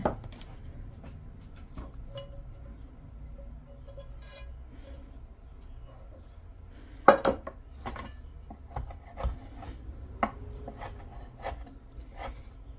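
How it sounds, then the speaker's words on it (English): Salmon skins chopped with a knife on a board for homemade dog food, sparse quiet taps and scrapes, with a few sharper knocks, against a faint room hum. "the skins I do want to chop up a bit"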